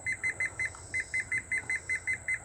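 A ThermoWorks Smoke thermometer beeps while its alarm is being set, a rapid run of about a dozen evenly spaced electronic beeps, close and clear with no talking.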